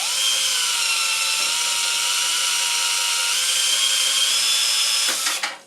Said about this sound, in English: Now I'm going to try to hold this as taut as I can and run the drill